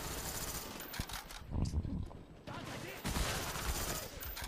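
Rapid hip-fired gunfire in Black Ops cracks in dense bursts, loud and close, with brief lulls between volleys and a voice faintly underneath.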